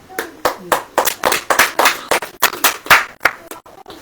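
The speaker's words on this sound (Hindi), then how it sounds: "ताली हो जाइए" A congregation at a Hindi Christian prayer meeting claps in a lively, uneven stream of sharp hand claps, close and fairly loud, lasting several seconds.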